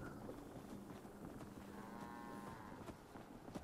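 A cow in the video game Fallout 76 gives a drawn-out moo, faint and somewhat distant, over a steady low ambient hum with no talking.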